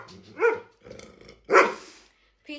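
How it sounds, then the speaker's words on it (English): Dogs barking indoors at a pet-sitting house, two loud bursts of barks and growly yips close by with a short quiet gap between them, and a clipped bark at the very end. "What are you barking at?"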